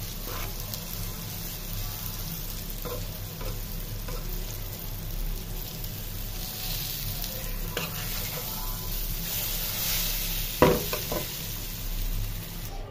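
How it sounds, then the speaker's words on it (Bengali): Slices of sweet pumpkin fry in a pan of oil as a steady, moderate sizzle, with occasional light taps and one sharp clack of a turner flipping them. "এই যে মিষ্টি কুমড়ার চাক ভাজা কিন্তু আমার হয়ে গেছে"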